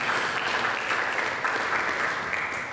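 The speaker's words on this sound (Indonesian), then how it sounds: "Mari kita berikan tepuk tangan bagi Yesus." Church congregation breaks into sustained applause during a sermon, a dense, continuous wash of many hands clapping in a large room, steady and moderately loud with no one speaking over it.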